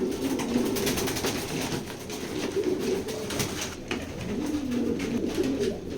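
Pigeons in a flying loft coo continuously in soft rolling murmurs, several birds overlapping at close range over a steady background hum.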